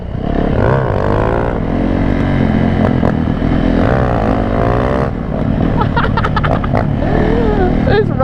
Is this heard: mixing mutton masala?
no